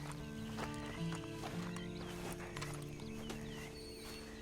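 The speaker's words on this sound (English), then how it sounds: "Then you better get on this horse." In the video game Red Dead Redemption 2, horse hooves clip-clop in a steady walking rhythm, with occasional whinnying and a low musical hum underneath.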